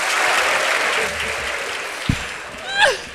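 Broad applause from an audience fills most of the span as a steady wash, with a voice briefly rising and a sharp knock near the end.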